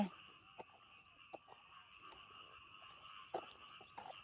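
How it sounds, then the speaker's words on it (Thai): A faint outdoor chorus of frogs keeps up a steady drone on a quiet morning, with occasional soft clicks and knocks nearby. "เสียงกบเสียงเขียด"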